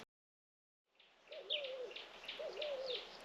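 Soft morning bird calls repeat in a quiet outdoor setting in Namibia: a warbling trill with higher chirps, fairly distant and gentle.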